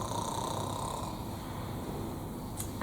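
A storyteller's voice imitates lambs snoring, making a soft, steady, breathy snore with no other words spoken, held evenly for a few seconds.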